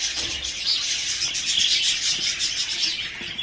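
Pet birds in a breeding cage chirp rapidly and continuously, with bright, close tweets overlapping one another throughout.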